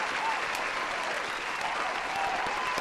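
A small crowd gives a round of applause during a live stream, steady close clapping that stays even for a few seconds, with faint voices underneath.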